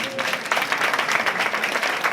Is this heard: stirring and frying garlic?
no